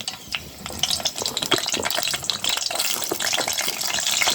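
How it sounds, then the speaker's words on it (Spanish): Onion hits hot oil for a Mexican pitaya-flower stew, giving a loud close crackling sizzle with dense popping and stirring that runs continuously without talk. "Ahora ya le voy a poner la cebolla"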